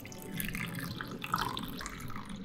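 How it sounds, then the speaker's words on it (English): Liquid gelatin dessert mixture being poured into molds, a faint close trickle with small splashing drips over a few seconds, without speech. "Now it's time to pour this concoction into the molds and let it chill."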